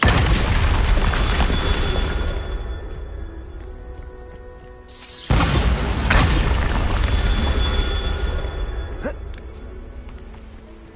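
Two loud Bombarda spell explosions in the PS5 game Hogwarts Legacy, each a sudden booming blast followed by a long, rumbling, debris-filled decay.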